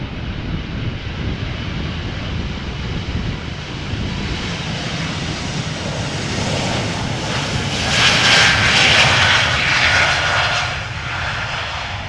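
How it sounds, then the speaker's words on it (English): A two-year-old KLM Embraer 195 E2 jet with geared turbofan engines at Amsterdam Schiphol, a steady broadband engine roar that swells louder toward the end as the aircraft passes near, with no talk. "This is an E2 Embraer 195 going to Manchester, KLM flight 1075."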